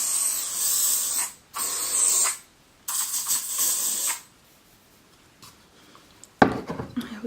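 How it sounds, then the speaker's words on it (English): Hairspray misted onto messy curls while getting ready, several short hissing aerosol bursts with brief pauses between, close and fairly quiet, followed by light rustling and handling sounds. "A little bit of hairspray."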